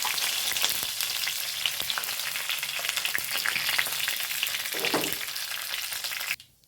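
Curry leaves crackle and sizzle in hot oil with fenugreek and dried red chillies for tempering, a steady bright frying hiss with scattered pops that cuts off abruptly at the end.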